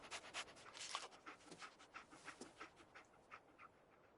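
A dog in Fallout 4 pants in quick, rhythmic breaths, close and fairly quiet, a steady run of short huffs with no talk over it.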